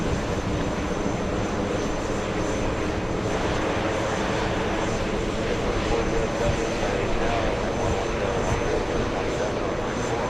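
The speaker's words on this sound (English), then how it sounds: "Sounds like the engines are beginning to start up." Rolls-Royce Trent 900 engines spooling up on an airliner at JFK airport, a loud steady broadband roar and whine with voices faintly under it.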